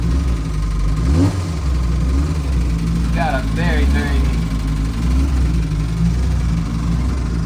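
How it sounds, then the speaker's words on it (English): The small engine of a 1959 Fiat-Abarth 750 Derivazione runs steadily with a low, rough drone, revving slightly, while someone talks over it close by. "healthy and attractive sound to that small engine"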